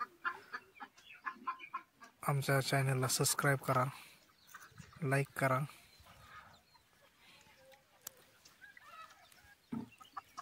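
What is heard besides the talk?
desi (gavran) chickens clucking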